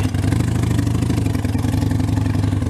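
A 2013 Harley-Davidson Sportster 72 engine runs steadily with a loud, close, low throbbing idle and no talking.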